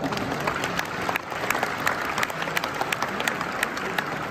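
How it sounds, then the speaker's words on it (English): Audience applause at a horsemanship demonstration at an Americana event, a sustained crowd of hands clapping with sharp individual claps standing out, steady and fairly close, no speech over it. "Give her a nice applause."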